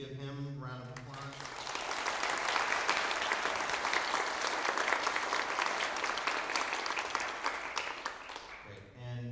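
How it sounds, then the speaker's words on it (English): An audience in a concert auditorium at a college wind ensemble and concert band performance bursts into sustained applause, broad and steady for several seconds before fading, with brief speech just before and after. "so if we could give him a round of applause"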